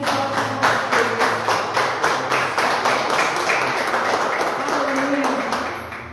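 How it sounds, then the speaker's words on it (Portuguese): A church congregation at an evening worship service claps in a steady rhythmic beat, many hands together, with a voice and music underneath. "E que as palmas louvem e exaltem o nosso Deus."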